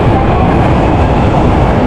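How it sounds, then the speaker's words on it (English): A train arrives at a station in Osaka, Japan: a loud, steady rumble of rolling carriages and wheels fills the whole moment with no pauses or speech. "Oh, here's my train."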